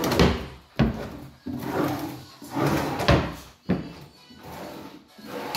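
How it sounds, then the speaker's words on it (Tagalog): Push-to-open drawers on an IKEA-style modular kitchen cabinet are repeatedly pushed, slid open and shut, giving a series of close wooden thumps and sliding rubs about every second or so. "Push to open drawer."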